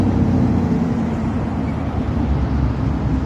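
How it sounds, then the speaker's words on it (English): Loud trucks passing along a town street near a monument and old courthouse in Lewistown, Pennsylvania, producing a steady, heavy low rumble that fills the whole moment without a break. "that is some loud trucks"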